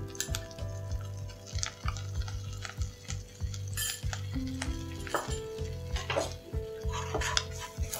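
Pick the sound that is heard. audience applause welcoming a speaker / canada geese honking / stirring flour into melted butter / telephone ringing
stirring flour into melted butter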